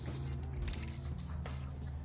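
Aerosol spray paint can hissing onto a vintage GMC motorhome wheel, short bursts of close, breathy spray over a low background hum.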